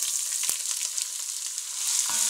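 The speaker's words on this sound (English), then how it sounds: "I'm going to mix this and let them saute for about 5 minutes." Onions sauteing in a pan for a vegan samosa pie, a steady soft sizzle and crackle with a couple of brief stirring scrapes, close and moderately quiet.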